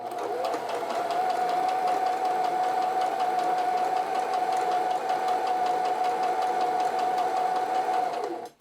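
A sewing machine stitches a buttonhole in one continuous, close, steady run of fast rhythmic needle clatter with a humming motor tone, stopping abruptly at the end.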